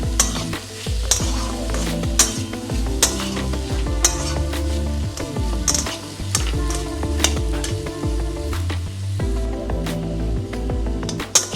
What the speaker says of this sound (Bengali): সমস্ত কিছু উপকরণ আমি ভালো করে মাখিয়ে নেব